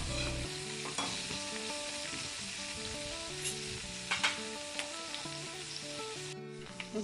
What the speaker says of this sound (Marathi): आता मस्त गाबोली फ्राय झालेली आहे.